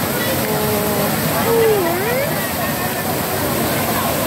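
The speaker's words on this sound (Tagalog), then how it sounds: "Mahaba-haba rin yung falls na to." Daranak Falls, swollen and muddy after rain, gives a steady, loud broadband rush of falling water, with people talking over the roar.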